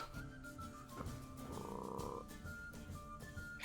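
A frog croaks in a short series of low, throaty calls, loud and close, with no other sound around it.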